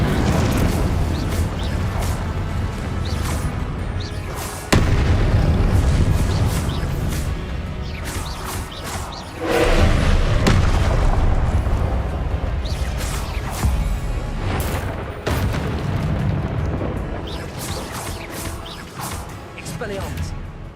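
Spell blasts cast in the video game Hogwarts Legacy: a run of loud crashing impacts, whooshes and booms over a dense rumbling game soundscape, with a voice shouting spell names throughout.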